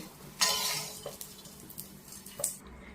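Roasted edible gum scraped and tipped out of a wok into a vessel: a few metallic scrapes and clinks of a spoon against the pan, close and fairly loud, over a faint lingering sizzle.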